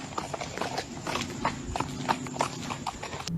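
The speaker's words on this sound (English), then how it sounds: "the sudden sounds of horse hooves clattering against the ground appears right near him and getting closer." Horse hooves clatter against a street at night in a steady walking clip-clop, close by and moving nearer, with a faint rumble underneath.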